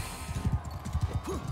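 Horse hooves in Mount & Blade 2: Bannerlord, a quick rhythmic run of dull thuds in a galloping pattern over a low background rumble.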